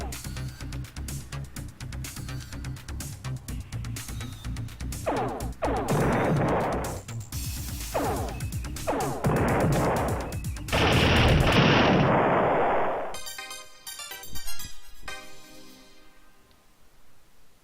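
Ship weapons in the Star Control II space combat game fire a run of rapid blasts and booming bursts, dense and loud, over retro game sound effects, then trail off into sparser electronic bleeps.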